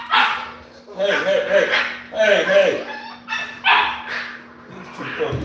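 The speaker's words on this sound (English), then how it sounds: "These two puppies here." Two American Bully puppies yap and bark in repeated close bursts, with a man's brief call cutting in among the barks.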